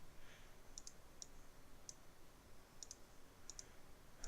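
A computer mouse clicks in short, crisp, faint snaps, a scattered series of about a dozen single and double clicks at irregular intervals, alone against quiet room noise.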